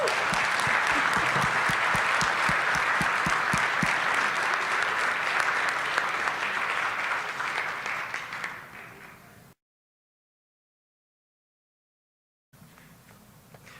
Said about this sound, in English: let's all give Dr. Thompson a big round of applause